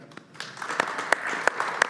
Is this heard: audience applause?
yes